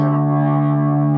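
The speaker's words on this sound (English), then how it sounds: "when it goes into distortion, it's too much" A distorted electric guitar tone through a small practice amp with a small speaker holds a sustained, buzzing chord, loud and saturated, ringing steadily without a break for a brief moment.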